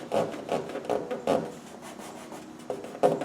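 Curing body filler being worked with a rasping, rubbing stroke, giving a series of about eight squeaky, scraping pulses at a steady rhythm, close and fairly quiet, with no talk.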